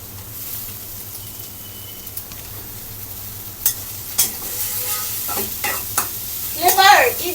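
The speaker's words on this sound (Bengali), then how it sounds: "কড়াইতে তেল এবং রসুন দিয়ে আমি এখানে কুচানো আলু দিয়ে দিচ্ছি।" Chopped potatoes frying in a wok with oil and garlic, giving a steady soft sizzle with occasional louder stirring scrapes and spatters toward the end, no voices.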